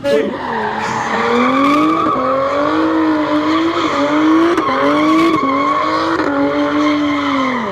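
A Lotus Emira supercar spins through donuts, its engine revving hard and wailing in rising, falling sweeps while the tires squeal loudly and continuously, close by, with crowd noise underneath.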